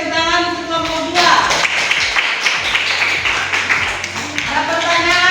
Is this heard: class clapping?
yes